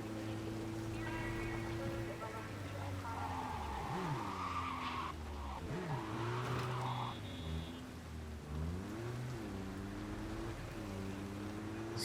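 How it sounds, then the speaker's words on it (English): A car in Cyberpunk 2077, a small unstable smart-type vehicle, skids and spins out, with sweeping engine revs and tire squeal rising and falling loudly over a steady game background throughout. "Spinning out was not what I meant to do right there"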